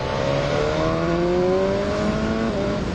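A BMW S1000R motorcycle engine accelerating hard, its loud continuous roar climbing steadily in pitch through the gears, close and unbroken with no talking.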